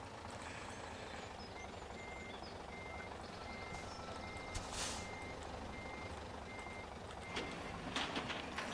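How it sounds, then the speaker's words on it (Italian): Truck in Farming Simulator 2013 backing up, steady repeated reversing beeps over a constant engine drone, with a couple of brief hissing bursts like air brakes near the end. "Pigliamo il camion."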